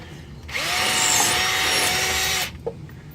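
Power drill boring out a broken easy out of hardened tool steel stuck in an exhaust stud hole on a Nissan 300ZX, one steady loud grinding whine lasting about two seconds, then stopping with a brief click.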